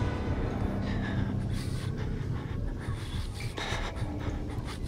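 Heavy, rasping breathing from an enemy in the horror video game Outlast, loud and continuous over a noisy game background, with no voices.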